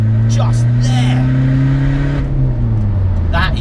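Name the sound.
Skoda Fabia vRS diesel accelerating in third gear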